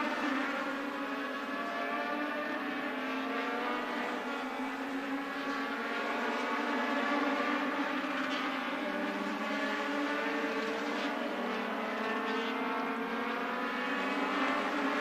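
Race cars on the asphalt oval at the Bullring at Las Vegas Motor Speedway during the Asphalt Nationals, a steady layered engine roar from several cars circling continuously, loud and sustained throughout with no talk.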